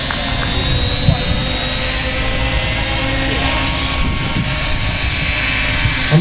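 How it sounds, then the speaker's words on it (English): A rare model helicopter with a Scorpion motor flies at a 2011 air show at Weston Park, U.K. A loud, continuous high-pitched whine and rotor roar carries on steadily throughout. "using a Scorpion motor. Jan Heinzlitz designed and produced these. It's quite a rare helicopter"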